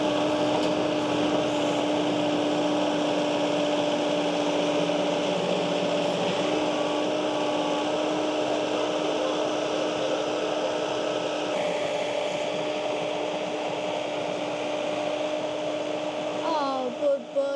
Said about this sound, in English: Keith's coming immediately with the tractor to help him get unstuck